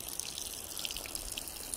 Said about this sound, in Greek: Εδώ ένα νεράκι το οποίο είναι πάρα πολύ καλό, πόσιμο